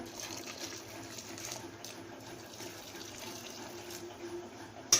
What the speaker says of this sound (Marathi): आता यामध्ये उकळलेलं पाणी घालायचं